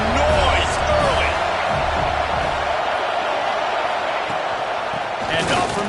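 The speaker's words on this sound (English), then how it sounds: "This crowd bringing the energy and noise early." A football stadium crowd at an Iowa at Penn State game cheers and roars steadily throughout, a dense, continuous wash of noise with a commentator's voice running over it.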